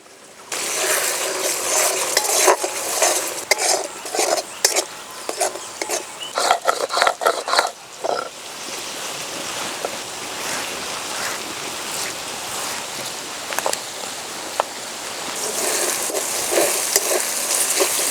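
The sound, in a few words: tomatoes frying in a pan with mustard and poppy seed paste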